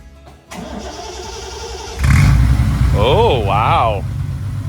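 A 1973 Triumph TR6 engine cranks with the choke out, catches loudly about two seconds in and settles into a steady, close idle, while people talk over it.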